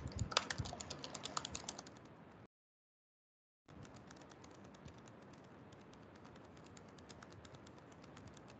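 Rapid, irregular keystrokes on a computer keyboard, quick clicking that stops for about a second of silence and then continues steadily, close and fairly quiet, with no voices.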